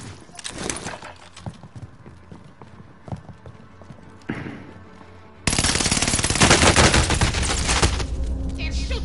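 Gunfire in Call of Duty Warzone's Rebirth map crackles in scattered shots, then swells halfway through into a loud, dense, continuous burst of automatic fire that carries on to the end.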